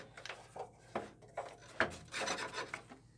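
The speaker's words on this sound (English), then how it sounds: "Okay, what you've seen is the quill started to release." A Shopsmith drum sander's quill releasing from a plywood drum on a homemade hub, heard as a series of close wooden rubbing, rasping and knocking sounds in short bursts, louder near the end, with no talk.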